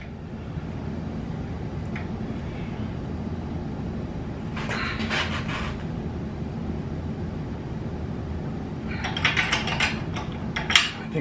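A wrench works the bolts of DirtRacks front crash bars on a Yamaha Tenere 700 motorcycle, giving two short bursts of quiet metallic ratcheting clicks over a low steady background.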